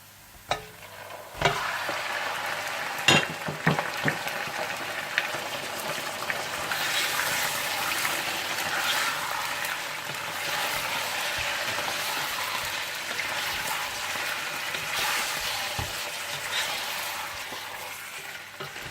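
Mutton pieces dropped into a pan of golden brown fried onions, sizzling steadily while being stirred and scraped, with a few sharp clanks at the start and a continuous hiss throughout.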